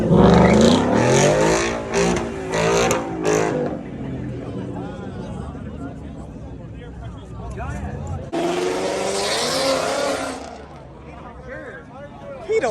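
A Mustang leaving a car meet roars loudly as its engine revs hard, then settles into a steady, throaty drone as it pulls away, with a second burst of revving near the end.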